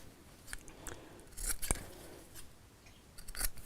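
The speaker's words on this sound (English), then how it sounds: "I'm going to just cut across the corners, just to cut down on the bulk when I turn this the right side out" Scissors snip across the corners of a sewn fabric cushion cover with a concealed zip, a handful of short crisp cuts spaced irregularly, close and fairly quiet with no talk.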